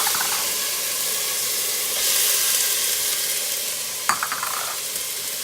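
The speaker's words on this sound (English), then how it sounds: "your pan should be hot enough to actually hear that sizzle when you're putting the vegetables in" Steady, loud sizzling of vegetables sauteing in hot olive oil fills the clip, with a brief clatter of stirring near the end.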